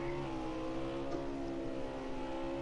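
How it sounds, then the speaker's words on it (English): A race car engine in a Mid-Ohio sim race holds a steady, loud, droning tone with stable harmonics through the whole short stretch, heard alone without talk. "you can kind of hear his engine and where his shift points are"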